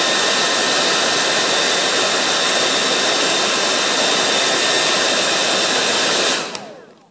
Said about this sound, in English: I leave my hair dryer on my table so I don't have to mess with it.